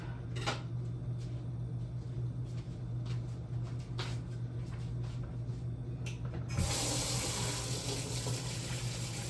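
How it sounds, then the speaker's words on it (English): A kitchen tap runs steadily while someone washes their hands, giving a constant close splashing hiss with brief splatters, then a louder, brighter gush near the end. Nobody speaks. "Wash my hands."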